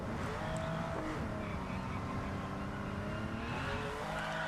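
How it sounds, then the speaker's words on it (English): A Porsche 911 Carrera widebody, an older 80s–90s model, drifts in a racing video game, its engine droning steadily with tire squeal layered over a continuous mid-level roar, no voices present. "oh man, look at those drifts"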